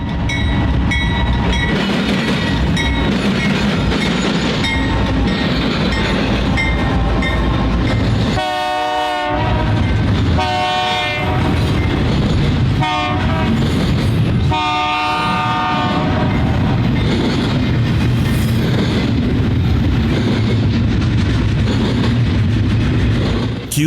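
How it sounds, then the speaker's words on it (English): BNSF heritage locomotive leading a westbound intermodal freight with a trailing GE unit, loud rumbling engines and rolling cars throughout, broken by several long blasts of the horn in the middle. "BNSF Heritage 1-9 number 984 was accompanied by a trailing GEVO as it led westbound intermodal train"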